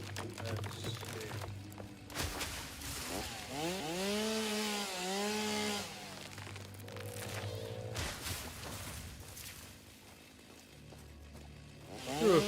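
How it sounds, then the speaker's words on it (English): A chainsaw runs at fairly low volume, its engine revving up and down in rising and falling whines amid rustling and scraping. "being able to run with your chainsaw in one hand"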